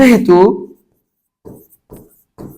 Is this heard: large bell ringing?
no